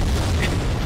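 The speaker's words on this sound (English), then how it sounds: "Oh wait, I'm hearing more explosions." A deep, booming blast rolls on with low rumbling for under a second, a spell explosion in Garry's Mod, with a brief brighter burst in the middle.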